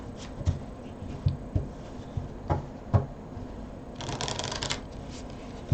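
Tarot cards are handled and shuffled close by, with soft rhythmic taps and knocks followed by a brief riffling burst near the end, and no voices.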